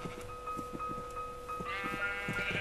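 Sheep in the Minecraft video game bleat in a quick run of short, repeated cries over a faint steady tone, with a brighter burst of bleats near the end.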